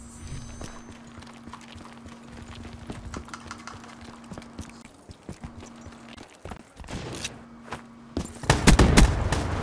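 Bursts of gunfire from the Scarface video game rattle in rapid clusters, sparse and clipped at first, then louder and denser toward the end, with a steady background tone running underneath.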